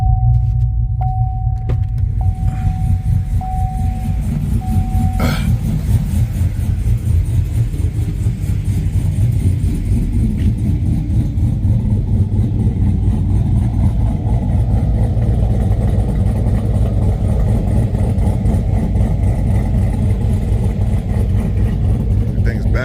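A truck engine fired up just after its valves were lapped and a colder spark plug fitted, settling into a steady, loud, close idle with a constant low rumble throughout.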